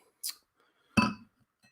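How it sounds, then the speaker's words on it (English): A coupe glass handled while making a vodka cocktail: a faint chink early on, then a louder clink a moment later, with nobody speaking. "got to get another coupe glass ready"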